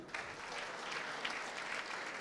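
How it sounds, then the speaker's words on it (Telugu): An audience at a college engineering event in Eluru claps steadily, a dense even wash of applause heard from a distance and sustained throughout. "చప్పట్లండి"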